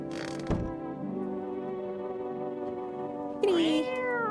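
A cat meows in the video game No, I'm Not a Human: one short call, then a longer rising meow near the end, close and clear over a steady background tone.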